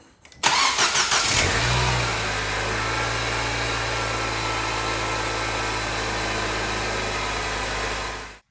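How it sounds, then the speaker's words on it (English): A cold car engine, about to get an oil change for burning oil, cranks briefly and catches, then settles into a steady, close, even idle that holds to the end with no talking. "What I'm gonna do first is start up the engine for you guys."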